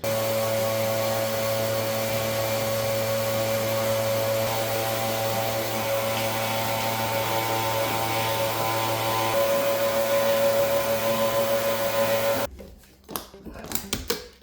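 A vacuum cleaner in an office under renovation runs with a loud, steady motor whine for about twelve seconds, then shuts off, leaving faint clattering and brief voices.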